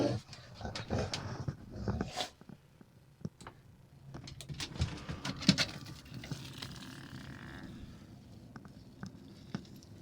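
An excitable dog moving around indoors: quiet, scattered claw taps and pattering footsteps, short scuffles and shuffles coming and going irregularly, with a breathy pant here and there.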